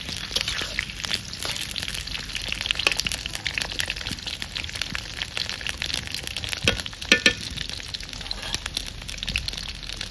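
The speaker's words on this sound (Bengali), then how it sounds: "কষা চিকেনের জন্য আলুটা ভেজে নেবো একটু।" Potatoes frying in hot oil in a village-style kitchen ahead of chicken kosha, a steady crackling sizzle with occasional sharper pops and stirring noises, with no talk.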